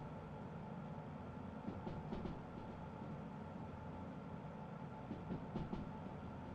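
A train rolls on rails in a train simulator video game, a steady low rumble with faint rhythmic clicks of wheels over rail joints, heard alone and fairly quiet.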